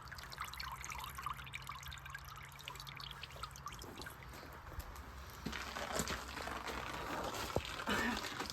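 Soaking water drained from prepared chickens, a continuous trickling and pouring that grows louder and splashier toward the end, close by.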